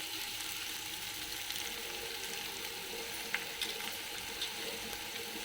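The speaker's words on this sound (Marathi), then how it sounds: "कांदा टाकते आता आपल्याला भाजून घ्यायचा चांगला कांदा" Chopped onion frying in a pan, a steady soft sizzle holding evenly throughout, with a couple of faint clicks partway through.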